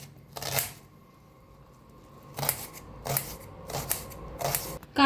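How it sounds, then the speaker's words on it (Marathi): An onion being finely chopped with a knife, a few short bursts of quick crisp cuts separated by pauses, close and fairly quiet, with no talk. "बारीक असा कांदा कापून घ्यायचा"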